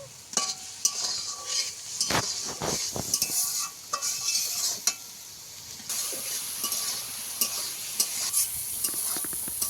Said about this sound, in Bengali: এখানে মশলা ভালো করে কষিয়ে নিয়েছি